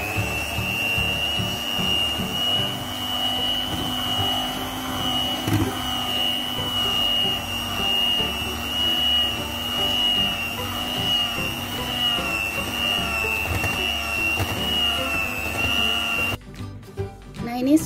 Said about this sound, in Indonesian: Lalu mixer kembali untuk yang terakhir.